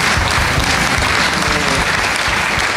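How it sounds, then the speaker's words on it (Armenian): A studio audience on a TV show claps steadily, dense and even applause filling the whole stretch without a break. "Ծափարենք տաղանդավոր մարդկանց։"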